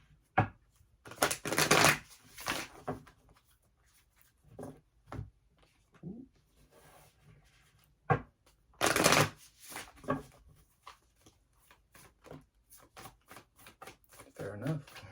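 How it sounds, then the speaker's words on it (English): Tarot cards riffled and shuffled by hand in a few separate bursts, close and crisp, with quiet pauses and soft handling noises between them. "I'm being told to shuffle this one."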